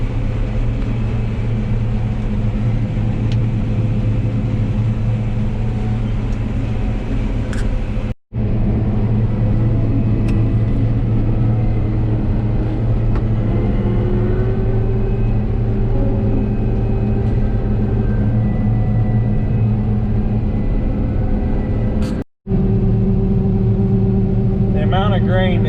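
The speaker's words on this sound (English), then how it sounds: "Grain that comes out of the unloading augers on these combines with the high rate unload's pretty kind of hard to believe." A combine harvester's high-rate unloading auger pours wheat grain during an Ohio harvest, a loud, steady machine drone and rumble filling the stretch, with two brief dropouts and a person talking over it.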